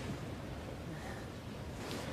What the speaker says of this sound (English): There's a waterfall coming down here at the moment.